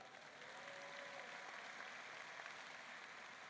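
Steady crowd applause fills a George Mason University College of Science degree celebration. It is a dense, even wash of clapping that holds for several seconds and sounds fairly distant and soft.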